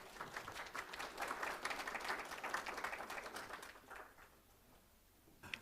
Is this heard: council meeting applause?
yes